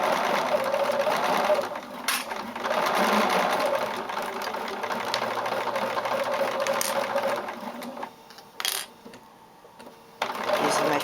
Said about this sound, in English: I'm going to back stitch again over this tie